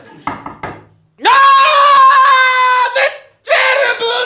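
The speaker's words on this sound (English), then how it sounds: "The terrible knocking!" Several sharp knocks on a door, a quick cluster of raps near the start, followed by a long, loud scream-like wail and another burst of shouting afterward.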